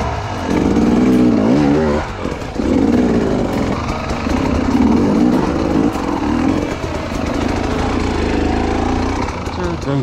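An enduro motorcycle engine revs and bogs as it rides over slippery hard enduro terrain, loud and close throughout with fluctuating throttle, while a voice speaks over it.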